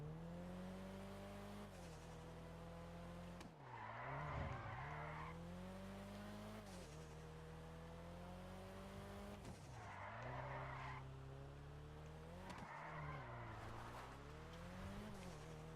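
A Nissan drifting in GTA Online, its engine droning in steady tones while tires screech in repeated long skids, loud and close, with no talking over it.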